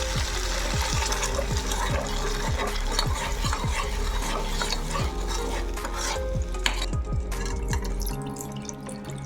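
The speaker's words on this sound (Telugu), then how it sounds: "ఇప్పుడు ఇందులోకి కొద్దిగా పాలను వేస్తూ కలుపుకోవాలి" A spoon stirs milk into a cornflour roux for white-sauce Alfredo pasta, steady rhythmic scraping strokes with soft liquid sloshing and a faint sizzle, close and continuous throughout.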